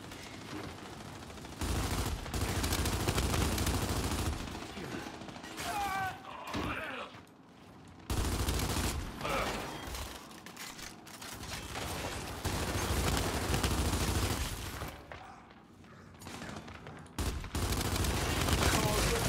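Gunfire in the video game Gears 5: dense, sustained bursts of automatic weapon fire with brief lulls, loud and close throughout.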